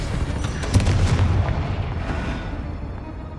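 Confringo blasting spell explosion in the Hogwarts Legacy video game: a loud, booming burst with a strong low rumble that swells and then slowly decays into a fading roar, with no talking.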